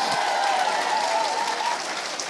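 Church congregation applauding at a fellowship worship service, a dense steady wash of clapping held at full level for the whole stretch, with a sustained tone ringing beneath it.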